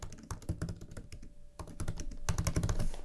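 Quick, uneven keystrokes clatter on a computer keyboard, close and clear, with a short pause before a faster burst of typing.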